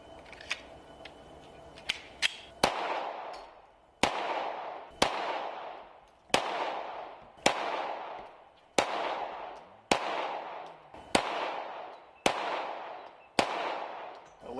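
An FN 502 .22lr pistol firing Federal bulk ammo at a range, ten sharp, loud shots spaced roughly a second and a half apart with ringing decay, preceded by a few faint clicks.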